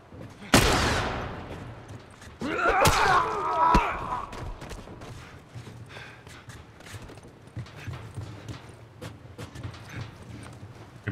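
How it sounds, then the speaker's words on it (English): A sharp burst of gunfire in The Last of Us, with a loud shot followed by a clattering crash and scattered debris, then quieter shuffling and ambient noise with no speech. "Who are they shooting at?"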